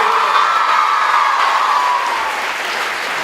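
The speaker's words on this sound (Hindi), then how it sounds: "ये तालियां बजती हैं" Loud, steady applause from a large crowd at a girls' school annual sports event, with some cheering mixed in, continuing throughout.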